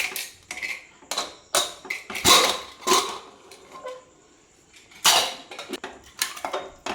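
A pressure cooker used to cook chicken curry is opened after its steam has gone, giving a series of close metallic clinks, clatters and scrapes of lid and pot in short irregular bursts with quiet gaps between.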